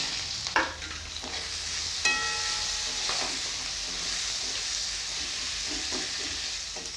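Chopped onion fries with garlic paste and green chillies in hot oil, a continuous close sizzle punctuated by several sharp stirring clatters and scrapes of a spoon against the pan.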